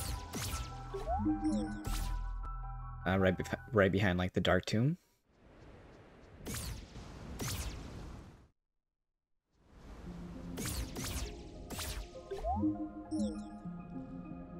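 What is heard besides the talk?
waterfall dripping water in the video game Tunic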